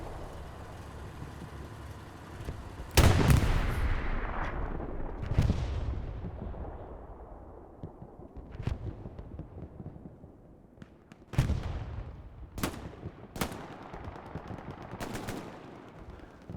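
Bursts of automatic gunfire and heavy explosions in a World War II shooter match at Carentan train station, with sharp loud volleys, booming blasts and quieter scattered shots between them.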